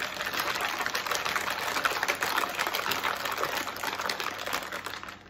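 A shaker bottle filled with filtered tap water is shaken hard, giving a steady, busy sloshing rattle that runs evenly for about five seconds before cutting off.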